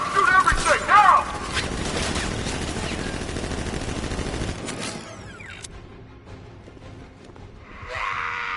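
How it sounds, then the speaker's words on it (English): Guards open fire in Batman: Arkham Knight, loud bursts of gunfire and clattering mechanical noise filling the first few seconds, then thinning into quieter rumbles and a muffled swell near the end, with shouting mixed in. "Guard! Open fire! Shoot everything, now!"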